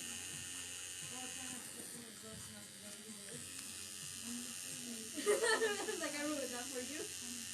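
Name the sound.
tattoo machine needle buzzing while shading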